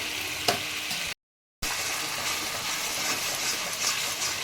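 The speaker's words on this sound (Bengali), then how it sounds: "দেখো আমার মশলাটা কষানো হয়ে গেছে, তেল ছেড়া শুরু করে দিয়েছে একদম" Spice paste frying in oil for an egg korma, a steady close sizzle with faint stirring scrapes and a brief dropout partway through.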